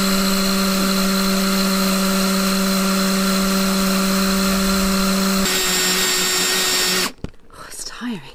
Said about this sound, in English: So first I'm drilling a pilot hole and then I'm going to drill the bigger hole.